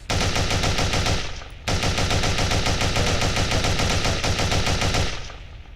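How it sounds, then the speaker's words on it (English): Rapid automatic AK-47 fire in the Anguish video game, a loud continuous burst with evenly spaced shots, a brief pause near the start, then another sustained volley that stops abruptly. "that's the new AK-47"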